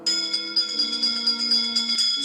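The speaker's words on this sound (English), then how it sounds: "give us a hint by ringing a bell" A bell rings inside a Walt Disney World theme park attraction in the Roblox video game, with bright, shimmering chimes repeating softly and steadily with no voices over it.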